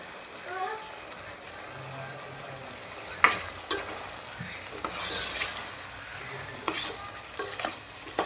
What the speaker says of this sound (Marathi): तेल सुटेपर्यंत ही कोबी फ्राय करून घ्यायची